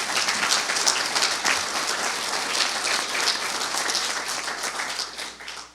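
Warm sustained round of applause honoring a man who earned Eagle Scout rank in 1949, many hands clapping steadily and fairly loud before tapering off at the end.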